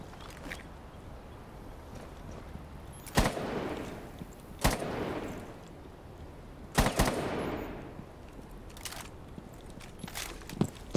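FMG9 submachine gun fire in a first-person shooter video game, heard as a few separate short bursts spaced several seconds apart, sharp and fairly close against a quiet background, with faint footsteps between bursts.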